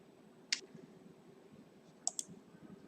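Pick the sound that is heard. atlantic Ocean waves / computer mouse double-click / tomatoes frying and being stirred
computer mouse double-click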